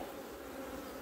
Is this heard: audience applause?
no